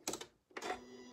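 A sewing machine tacking a stitch on a quilt gives two short mechanical bursts of rapid needle clatter separated by a brief pause, close and moderately quiet.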